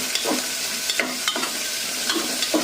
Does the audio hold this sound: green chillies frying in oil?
yes